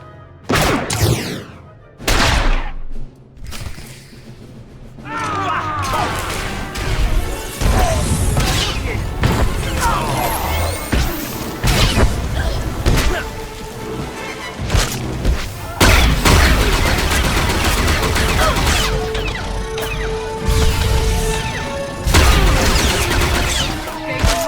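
Heavy blaster fire and explosions erupt in a Star Wars: The Old Republic trooper battle, dense rapid shots and booming impacts overlapping continuously, loud and close, with shouted voices in the mix.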